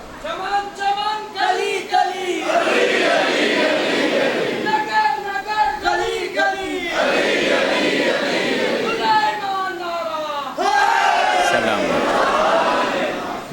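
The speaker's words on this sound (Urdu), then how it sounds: "ٹھڈے ٹھڈے نعرے تے مٹھی مٹھی داد" Crowd at a religious gathering calling out slogans in bursts of voices, loud and near, rising and falling across several surges.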